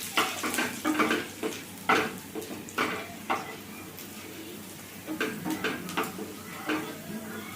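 Garlic and ginger frying in a pan for chilli brinjal, a soft sizzle under repeated light scraping and stirring taps from a spatula against the pan, close and fairly quiet.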